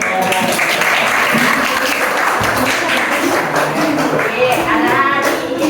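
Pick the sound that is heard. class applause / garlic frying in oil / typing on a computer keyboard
class applause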